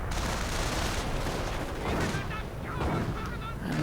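Hummel self-propelled artillery firing in a World War II strategy game, part of a loud, continuous battle din with heavy booms and crackling gunfire layered densely throughout.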